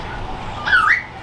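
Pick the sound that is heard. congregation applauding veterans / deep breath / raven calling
raven calling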